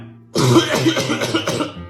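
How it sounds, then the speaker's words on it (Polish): A quick run of harsh, throaty coughs, several bursts in a row, close and fairly loud, with no talking. "Kaszel mam."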